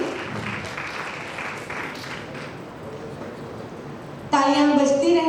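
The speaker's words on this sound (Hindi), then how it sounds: "जोरदार तालियों के साथ सर का अभिनंदन करें" Audience at a university lecture session applauding a professor being honored, a fairly soft wash of clapping that fades slightly before a speaker's amplified voice cuts in near the end.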